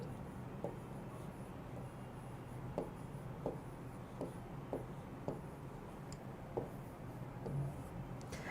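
Pen or chalk writing the word 'against' during an English lesson, a quiet series of short scratchy strokes at irregular intervals over a low room hum.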